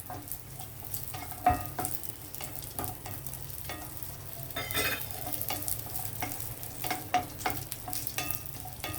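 Cashews and raisins frying in ghee, a continuous crackling sizzle with repeated scraping stirs of a spoon against the pan, close and even, no talking.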